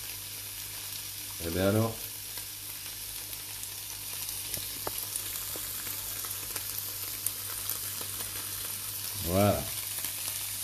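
A wok of pad thai sizzles steadily in hot oil as light soy seasoning sauce goes in, a constant close frying hiss with two brief bursts of a voice talking over it.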